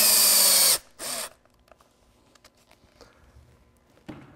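A power drill whines loudly as it drives a Kold Kutter ice racing screw into a motorcycle tire, stopping abruptly, followed by a shorter second burst and then quiet handling clicks and a brief final whir.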